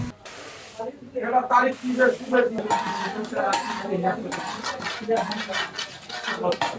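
Flour being roasted and stirred in a pan for son papdi, with a steady run of close metal scraping and clinking from the spatula as someone talks throughout.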